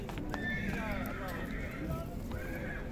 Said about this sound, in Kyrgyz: Мына байланган айгыр сойгонго.